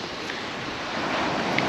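Big waves rolling in and breaking on Magaluf beach in Mallorca, a steady broadband surf wash that swells slightly louder toward the end, with wind over it and no voices.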